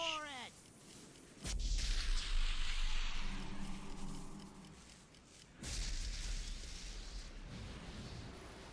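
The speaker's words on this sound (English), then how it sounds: "Buster cannon." A buster cannon fires in a video game, giving two booming blasts with rumbling, fading tails spaced a few seconds apart. The blasts sit fairly faint within background game sound and occasional voices.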